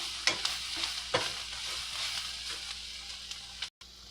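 Vegetables sizzling in a hot pan while being stirred, a steady close frying hiss broken by a few sharp scraping strokes.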